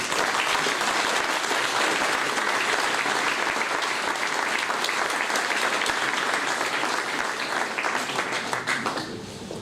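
Warm, sustained applause from a village audience at a mayor's New Year greetings ceremony in Saint-André-de-Seignanx, dense and steady throughout with no speech.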